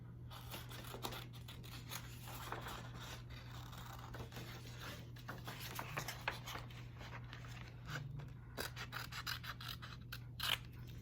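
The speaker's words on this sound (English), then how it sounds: "now I can start cutting them off so we can start gluing them together" Scissors snip through paper card pieces for a heart-shaped Father's Day card, a steady run of close, crisp cuts and rustling paper over a low constant hum.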